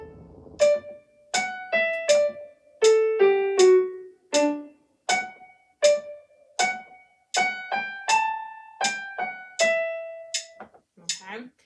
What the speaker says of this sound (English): if we set the metronome to 80 and we try the right hand, it sounds something like this.